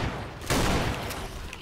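Rapid gunfire rattles in Left 4 Dead 2 during a custom campaign, a dense loud burst with a sharper report partway through.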